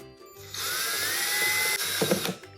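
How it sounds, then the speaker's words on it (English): A power drill with a 1/4 inch bit whines steadily for over a second as it bores a drainage hole into the bottom of a plastic storage bin, then slows with a rattling burst and stops. "we're going to drill some holes at the bottom so that any extra water can drain out of here"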